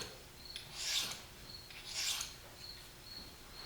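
Single-bevel broadhead drawn across a KME sharpening system stone, giving two slow raspy strokes roughly a second apart, close and fairly quiet with faint high ticks between them.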